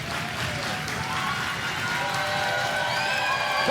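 A packed wrestling crowd at a Maple Leaf Pro show roars steadily throughout a title match between Konosuke Takeshita and Josh Alexander, with dense, continuous cheering and no clear voices above it.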